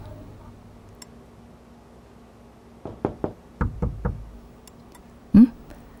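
Knocking on a home's door: a few quick raps in two short clusters, fairly close and moderately loud, following a stretch of near silence with a faint hum.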